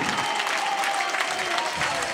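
Football crowd at a Finnish men's second-division group final cheering and applauding after a goal, a dense roar of clapping and shouting close by, with a commentator's voice running over it.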